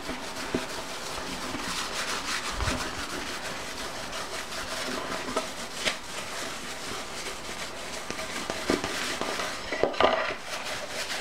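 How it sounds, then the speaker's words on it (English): Continuous close rubbing and friction as a cloth buffs waxed wood to a high sheen, steady with a few small knocks near the end. "the last step is to buff it to a high sheen"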